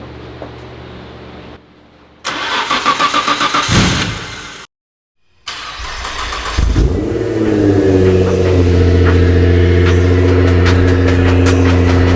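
A Nissan GT-R race car engine cranks with a rapid, stuttering whir, cuts out, then cranks again, catches, and settles into a loud, steady idle close by.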